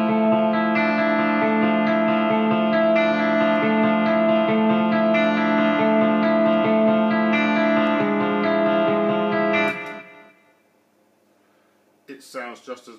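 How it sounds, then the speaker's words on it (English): Electric guitar chords through a Line 6 Helix, with reverb placed before the amp, ring out steadily with a washy reverb tail, loud and sustained for about ten seconds, then fade before a few brief new notes. "I also like the reverb before the amp"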